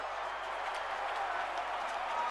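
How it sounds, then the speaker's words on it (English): A ballpark crowd roars and cheers after a walk-off win in the baseball game MLB 15 The Show, a dense, continuous, steady wash of noise. "this crowd goes crazy"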